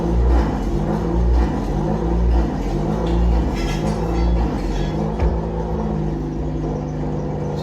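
A Honda Civic with a turbo setup rumbles and revs steadily as it is driven forward and backward, its low engine drone continuous and close with gentle swells in throttle throughout.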